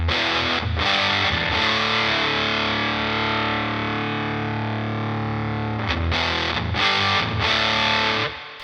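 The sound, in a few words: electric guitar through Sonicake Fazy Sandwich fuzz pedal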